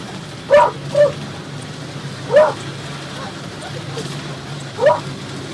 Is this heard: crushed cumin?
no